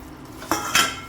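Metal spoon scraping and clinking inside a cooking pot while stirring thick adadiya sweet with dry fruit, two or three distinct clanks and scrapes, close and fairly loud, no talking.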